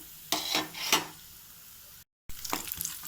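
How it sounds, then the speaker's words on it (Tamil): Hot ghee sizzles as small pieces of coconut are frying, with a few louder bursts of crackling and stirring, close by, then a brief cut. "நெய் நல்லா சூடானதுமே சின்ன சின்னதாக நறுக்கி வச்சுருக்கிற தேங்காவை சேர்க்குறோம்"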